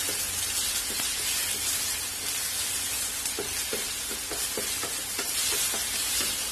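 Ginger garlic paste fries in hot oil in a pan for pav vada filling, a steady dense sizzle with occasional soft clicks of stirring, close and continuous without talk.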